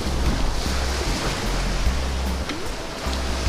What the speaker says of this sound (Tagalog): tingnan nyo kung gaano kaganda yung karagatan dito